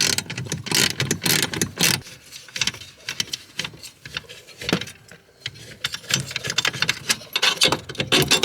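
A wrench works a 13mm bolt out of a SAAB steering column, giving close, quick metallic ratcheting clicks and rattles in busy bursts with a brief quieter stretch in the middle and no talk.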